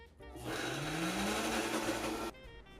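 An electric mixer whirs into a cream cheese appetizer mixture seasoned with a dab of salt, running loud and steady for about two seconds before cutting off.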